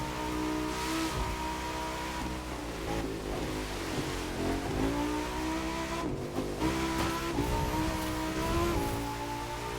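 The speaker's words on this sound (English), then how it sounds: "Wheel spin in fourth gear in the rain." Racing game The Crew 2 with a car wheel-spinning in fourth gear on a rain-soaked road: a loud, sustained engine howl whose pitch climbs and wavers as the tyres slip, with hissing spray and no talk.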